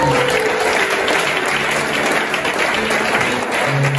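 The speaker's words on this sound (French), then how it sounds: "Acclame encore le Seigneur" Church congregation applauding the Lord during a French-language service, steady dense clapping throughout, loud and close, with faint voices underneath.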